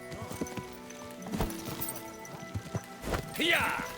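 Horse hooves clip-clop in the medieval game Kingdom Come: Deliverance II, a close series of irregular hoof knocks with a horse's whinny near the end, over someone talking.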